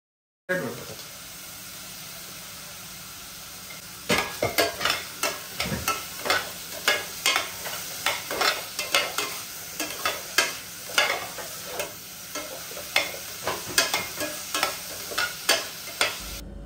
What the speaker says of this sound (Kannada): ಇದನ್ನೆಲ್ಲ ಹಾಕಿ ಸ್ಮೂತ್ ಆಗುವ ತನಕ ಫ್ರೈ ಮಾಡ್ತಾನೆ ಇರಬೇಕು